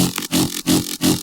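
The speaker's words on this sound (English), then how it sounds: "flange filter without a filter sounds like this." A drum and bass synthesizer patch with a flange filter and wavetable movement pulses in four swelling, buzzy bursts with short gaps between them, loud and alone.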